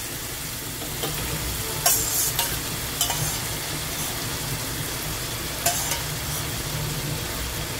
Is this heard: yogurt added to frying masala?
yes